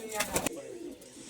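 Malabari pigeons coo inside a loft, a short soft burst of throaty calls up close, with a voice speaking over them.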